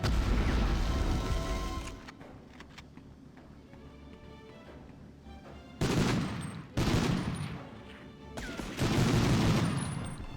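A grenade blast and gunfire in the war shooter Medal of Honor: a heavy booming explosion at the start, a quieter stretch, then several loud bursts of shots and blasts in close succession.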